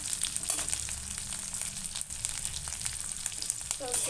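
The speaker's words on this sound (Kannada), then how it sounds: "ಸ್ವಲ್ಪ ಸಿಮ್ಮಲ್ಲೇ ಇಟ್ಕೊಂಡು ಇದು ಫ್ರೈ ಮಾಡ್ಕೊಳ್ಳೋಣ" Dried fish fries gently on low heat in a pan, a close, steady sizzle and crackle throughout with faint scattered pops.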